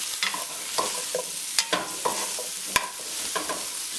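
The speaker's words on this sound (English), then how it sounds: "And give that a quick stir." Halved Brussels sprouts and onions are stirred in a hot pan, a spoon scraping and clicking against the metal in a few separate strokes over a soft, steady sizzle, with no talking.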